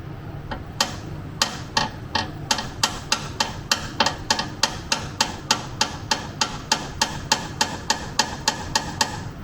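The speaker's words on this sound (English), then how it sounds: "I've got to hammer it in flush" A hammer drives a Pride-Auto diff brace sleeve flush into a car's rear subframe: about two dozen sharp metallic strikes in a steady, evenly spaced rhythm, close and loud, with no talking.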